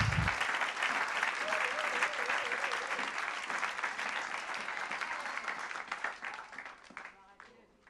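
A church congregation at a Shalom Tabernacle service applauds loudly and steadily, a dense wash of clapping with cheers, which fades toward the end.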